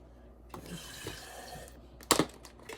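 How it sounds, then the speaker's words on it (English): Water is poured and shaken into glass jars while a meatball casserole is being prepared. Soft splashing runs through the clip with small clinks, ending in a louder burst of sloshing water near the end, close by. "I'm going to take and shake water in each jar"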